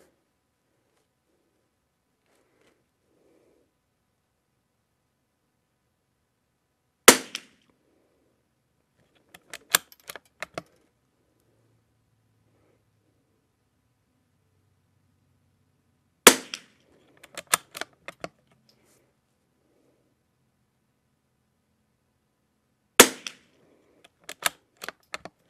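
CZ455 .22 rifle firing ELEY Match rounds at an outdoor range: three sharp, close shots spaced several seconds apart, each followed by a few quieter clicks of bolt cycling, with silence between.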